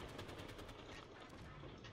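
Rapid gunfire in the video game Halo, dense bursts of shots packed together over about two seconds with a loud, busy mix of game noise.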